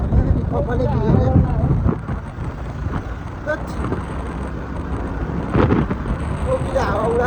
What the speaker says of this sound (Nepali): टोपीले हावाले टोपी उडाउनु थालिसक्यो मेरो।